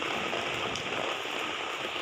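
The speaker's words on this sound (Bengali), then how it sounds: "দেখুন বৃষ্টি এসে গেছে জামা কাপড়গুলো তুলে নিয়ে এসেছি ছুটে ছুটে বৃষ্টি পড়ছে" Steady rain falls as a dense, even hiss, close and continuous with no voices.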